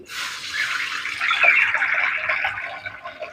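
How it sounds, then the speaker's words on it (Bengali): Water is poured into a karahi still coated with spices to rinse it, a short steady splashing pour close by that swells and then tapers off. "তাইতেই আমি জল ঢেলে দিচ্ছি"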